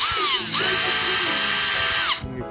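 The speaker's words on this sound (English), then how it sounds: "We drill the hole" Power drill boring a tap hole into a maple tree trunk for collecting sap, a steady loud whine that rises in pitch, dips briefly, then runs on before cutting off near the end.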